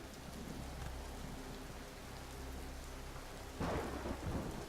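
Acid rain storm in the Empyrion video game: steady heavy rain hisses throughout with low rumbling thunder, swelling into a louder crack and roll near the end.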